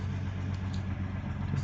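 A 1963 Rambler American with a flathead six-cylinder engine runs just after starting, a steady, close, low idling rumble with no voices.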